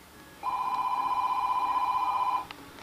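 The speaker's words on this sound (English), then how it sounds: "I'm going to answer the phone immediately." A telephone rings in a workshop with one long electronic trill lasting about two seconds, loud and close, followed by a couple of faint clicks.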